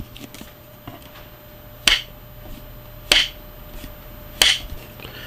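Three sharp clapperboard snaps at roughly even intervals, crisp and fairly close, over a low steady background hum.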